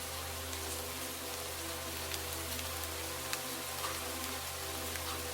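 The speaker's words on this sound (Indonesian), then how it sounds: "Sementara di luar, hujan turun kian deras." Heavy rain drums on a car at night on a dark mountain road, a dense, steady roar of drops hitting the roof and glass with occasional sharper taps, close and continuous.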